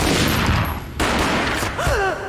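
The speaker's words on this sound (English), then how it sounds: "A gunshot boomed and she fell down in slow motion." Close, loud bursts of gunfire ring out in Max Payne, broken by a short lull before more shots.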